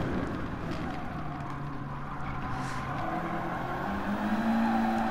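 Audi race car in Gran Turismo Sport on the Nürburgring Nordschleife, engine droning steadily and loud throughout with tire noise, pitch shifting as it takes a corner and runs wide onto grass.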